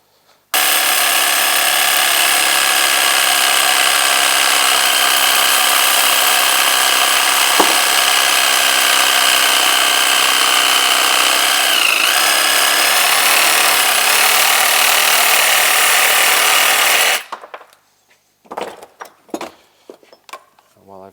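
Threads being tapped into a tie rod end hole during a Polaris IQR 800 mountain snowmobile steering build: a loud, steady power-tool whine runs for about sixteen seconds, then cuts out, leaving a few sharp metallic clanks.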